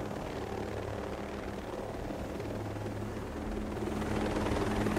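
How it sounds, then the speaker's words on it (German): A helicopter in a shooter video game drones steadily with a low, continuous rotor and engine hum, rising slightly in loudness toward the end, with no talking. "Hat sich voll gelohnt, in den Heli zu steigen."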